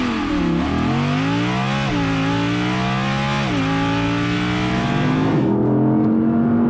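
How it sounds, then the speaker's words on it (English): A loud Audi R8 V10 Performance engine revs repeatedly, pitch climbing and dropping through several gear-like sweeps, close and dominant before cutting off near the end. "I'm gonna have a play with the engine"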